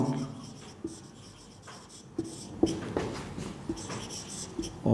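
A pen scratches across paper while someone writes out a formal application in English, with steady strokes and small taps as letters form, close and fairly clear against a quiet room.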